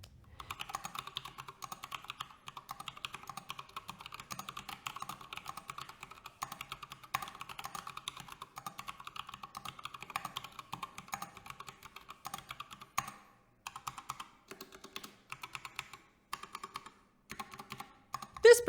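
Steady typing on a System76 Launch mechanical keyboard, crisp rapid keystrokes in a continuous flowing rhythm, close and clear, slowing to sparser clacks near the end.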